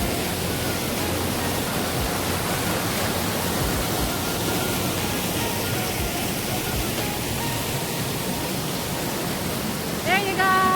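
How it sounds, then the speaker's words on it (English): A tiny waterfall on a hike near a waterwheel in Payson, Arizona pours in a steady, dense, close rush of water that stays even throughout and drowns out everything else. "It's a tiny waterfall."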